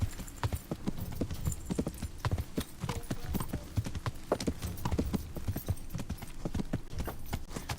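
Horse hooves clip-clop steadily in Kingdom Come: Deliverance during the Rattay tourney, a brisk continuous rhythm of hard hoof strikes on ground with occasional heavier thuds, loud and close throughout.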